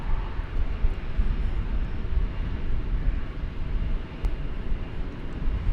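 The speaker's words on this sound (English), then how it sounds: "we've got a United Airbus A320 coming in for you" A United Airbus A320 comes in to land at Dallas/Fort Worth Airport with a steady, broad engine roar and rushing air that rises and falls slightly, and no one talks.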